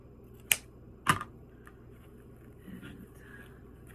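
Scissors snipping ribbon at an angle while making a patriotic bow, two sharp close cuts in quick succession followed by quieter handling and rustling.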